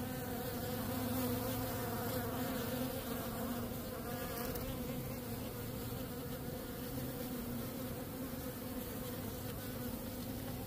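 Dense, steady buzzing of honey bees inside a hive during queen rearing, a continuous loud drone with no pauses and no voices.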